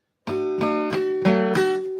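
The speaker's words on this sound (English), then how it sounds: "you're playing with the tip of the pick and you're letting the skin of your thumb kind of brush up against the string" A guitar plays five quick flatpicked notes in a row, the thumb brushing the string to mute it, each attack slightly damped and percussive, with a muted, clipped tone and no voices.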